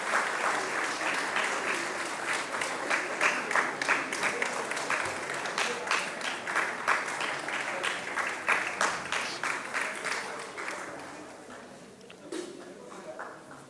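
Crowd applause for Mr. Vishal Gaikwad at an Independence Day celebration, sustained clapping with some rhythmic unison beats, fading slightly toward the end as a voice talks near the close.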